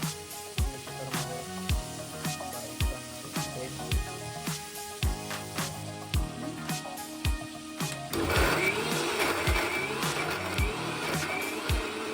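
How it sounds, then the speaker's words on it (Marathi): A mixer grinder whirs while blending makhani sauce, its motor humming steadily under a regular series of sharp, rhythmic knocks, then turning louder and rougher toward the end as the grinding intensifies. "याची मखनी सॉस रेडी करायसाठी आपल्याला ग्राइंड करायचं आहे"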